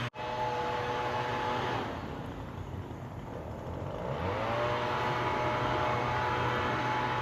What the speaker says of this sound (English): There's someone using a blower.